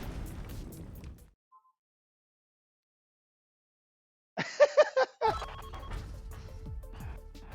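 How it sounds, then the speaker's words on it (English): Missile explosions in the Gearbits video game, a quick cluster of sharp bursts after a long silence, followed by a louder sustained blast that rumbles on. "Those missiles do so much damage!"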